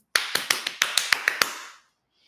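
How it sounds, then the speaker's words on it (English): A single person claps loudly about eight times in a quick, slightly uneven run, each sharp smack ringing briefly in a reverberant room before the last one trails into silence. "My clap went loud, Marcy."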